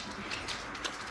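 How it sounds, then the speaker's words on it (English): A bird cooing inside a house, a couple of soft, short calls over quiet room noise. "Get out of this house, birdie."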